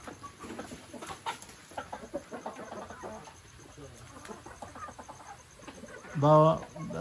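A large rooster clucks a couple of times close by, the calls landing near the end of the clip. Before that, someone talks outdoors amid faint background noise.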